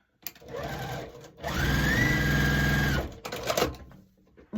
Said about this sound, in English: flip those around, sew on the other side of the line